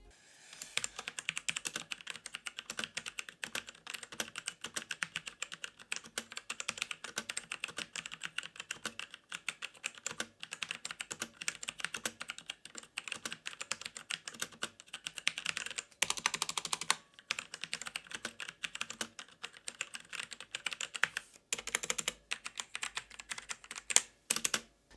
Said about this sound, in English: here's just a quick sound test of how these Automu brown switches sound